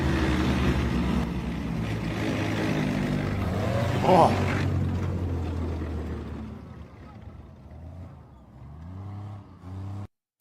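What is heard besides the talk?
M113 armored carrier engine revving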